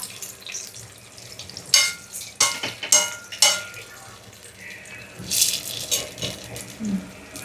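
Food frying in oil in a pan, with sizzling bursts and scraping stirring strokes coming in uneven clusters, close and moderately loud over a quiet room background.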